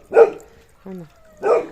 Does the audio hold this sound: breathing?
no